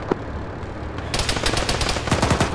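Vehicle-mounted machine gun in Arma 3 opening up on infantry, a dense rapid burst of loud automatic fire that starts abruptly and rattles on continuously, with a few sharper individual shots near the end.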